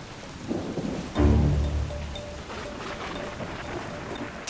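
Thunderstorm over the Matscha valley in the Swiss Alps: a deep thunder rumble rolls in loud and near, then fades beneath steady falling rain, with no voices.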